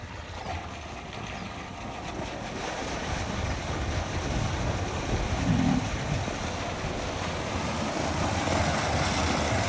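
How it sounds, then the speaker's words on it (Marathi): An Alpex 3 HP solar water pump runs while water gushes from its pipe in a steady, broad rushing wash that swells slightly louder partway through. No one speaks. "मोटर चालू झालेली आहे मित्रांनो आणि ते पाणी येता येतं"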